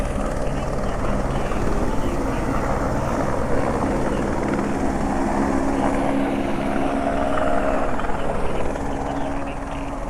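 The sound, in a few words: helicopters landing nearby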